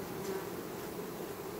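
Honey bees buzz at a hive in a continuous, soft, steady drone, a close swarm hum without pause.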